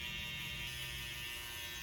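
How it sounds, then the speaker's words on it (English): Electric hair trimmers buzz steadily and close up during a haircut, a constant faint whirring hum with no breaks. "And now I'm gonna go in with my trimmers"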